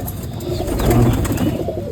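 Pigeons in a loft housing young squabs keep up a dense, continuous cooing and murmuring, fairly close and steady throughout, with a slight swell in the middle.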